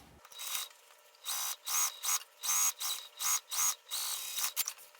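A sewing machine topstitches an accent piece of fabric to a seam allowance, running in short bursts of fast whirring separated by brief pauses, close and fairly quiet.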